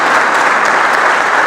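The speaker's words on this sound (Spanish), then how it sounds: "Le pido por favor un aplauso otra vez para el profesor." An audience applauds a professor at the end of an open talk on local history and heritage, steady close clapping of many hands filling the short moment without voices.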